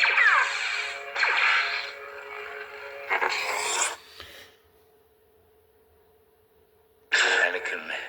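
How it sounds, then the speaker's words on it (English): Toy lightsaber effects: buzzing, crackling bursts with a low steady hum between them, a few separate hits, then a final burst after a quiet hum. "It also changes the sound effects"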